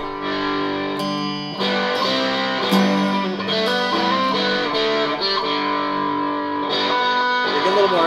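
A heavily distorted guitar effect plays sustained, buzzing chords with an echo-like wash, loud and continuous across the passage.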